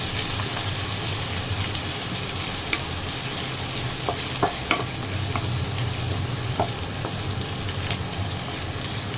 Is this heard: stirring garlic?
yes